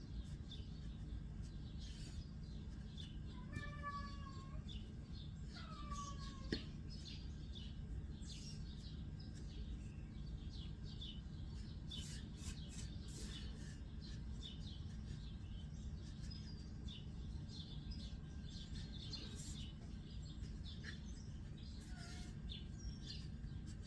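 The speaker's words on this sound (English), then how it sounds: "He's a cranky little bird now." A very old pet bird gives scattered short chirps and tweets over a steady background hum, faint and sporadic, with no voices.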